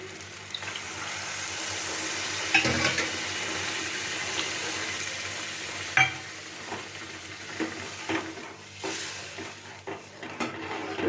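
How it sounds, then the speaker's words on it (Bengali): Water poured into sizzling fried spice masala in a wok for potol kalia, a hissing sizzle with splashy pouring and occasional stirring clatter, close and steady throughout. "এবার আমি পরিমাণ মতো একটু জল দিয়ে দিচ্ছি।"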